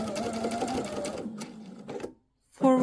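Pedal-controlled sewing machine stitching fabric for a faux welt pocket, running backwards and then forwards: a steady close motor whir, a few shorter bursts, a brief stop, then the stitching starts again.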